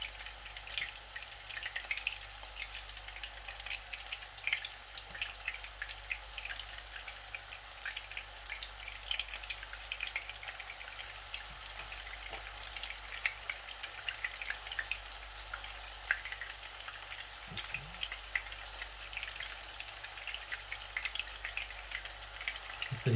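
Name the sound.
chicken gola kababs frying in a little oil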